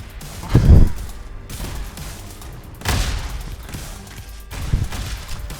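Explosions and gunfire blast out while fighting bots in the arena shooter Diabotical, with three heavy booming bursts spaced a couple of seconds apart over a steady bed of game noise and music.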